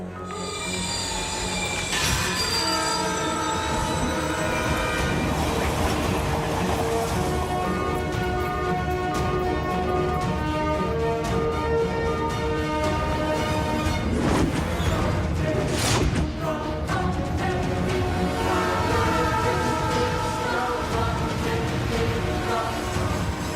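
A runaway train with failed brakes in an animated Shaktimaan episode, its wheels squealing loud and continuous for over twenty seconds over a dense rumble of rolling wagons and a swelling background score.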